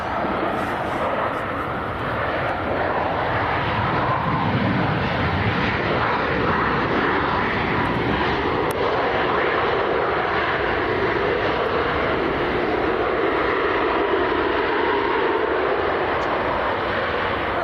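A Ryanair airliner lands at Leeds Bradford Airport, a broad, continuous roar of aircraft engines heard from a distance, steady throughout with a voice faintly audible underneath.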